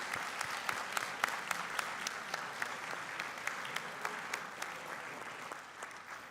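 Symposium audience applauds George Solomon, a sustained even patter of many hands clapping, moderately distant and steady with no talk.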